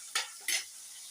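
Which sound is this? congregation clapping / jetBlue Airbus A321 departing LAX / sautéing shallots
sautéing shallots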